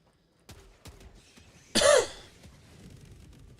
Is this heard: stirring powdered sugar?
no